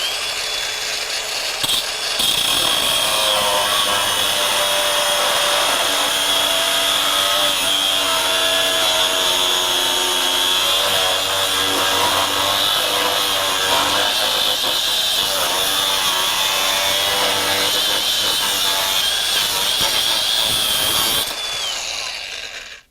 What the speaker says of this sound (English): Let me cut some all thread. This is pretty thick all thread there.